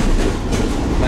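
A passenger train running on the rails in Pakistan, a loud, steady rumble with rhythmic clickety-clack from the wheels, heard from on board.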